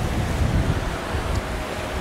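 Waves lapping against a wooden jetty on Lake Ammersee just after a storm, a steady broadband wash with gusty wind rumbling on the microphone, continuous and fairly close with no talking.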